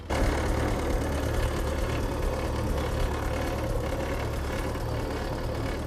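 An old Oliver tractor engine idles with its PTO turning, a steady low rumble with a faint knocking pulse that carries on evenly throughout, close by and with no talking.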